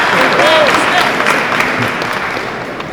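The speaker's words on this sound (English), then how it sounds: "I got 2 brand new knees, so y'all can clap for that too." Audience applause at a chamber of commerce gathering, a loud close burst of many hands clapping that gradually tapers off, with a voice briefly over it.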